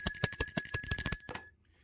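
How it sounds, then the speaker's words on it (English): A small bell rings in about nine quick, bright strikes with a sustained metallic tone, then stops abruptly and leaves a brief silence. "Let's ring the bell."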